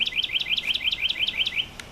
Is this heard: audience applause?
no